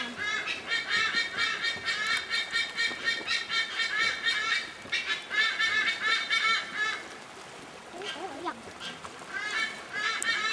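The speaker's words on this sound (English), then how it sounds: "Right up there is a couple of sea eagles making an awful racket." A pair of sea eagles on Tioman call loudly and repeatedly from overhead, harsh honking cries coming in bursts with short pauses, fairly near and clear above a quiet background.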